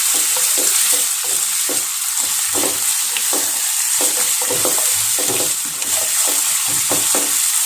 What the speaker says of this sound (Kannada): ಇದೊಂದು ಸ್ವಲ್ಪ ಹಾಗೆ ಎಣ್ಣೆನಲ್ಲೇ ಫ್ರೈ ಆಗಲಿ